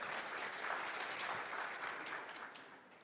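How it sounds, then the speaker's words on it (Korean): Quiet, brief applause from a forum audience in Seoul welcoming panel speakers at a session on carbon-reduction transition finance, a soft wash of clapping that fades away. "박수로 환영해 주시기 바랍니다"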